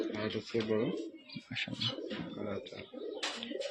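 Rajshahi Giribaz pigeons coo in soft, repeated throaty phrases close by, while people talk over and between the calls.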